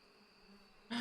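Bees in the beekeeping video game APICO give a steady, soft insect drone that swells into a sudden loud burst of buzzing at the very end.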